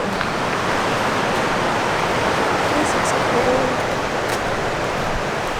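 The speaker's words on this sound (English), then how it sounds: "So the river is definitely way bigger than the last time I went." A broad, steady roar of a swollen rushing river beside a fish ladder in Port Alberni, loud and constant throughout, with a person speaking briefly over it.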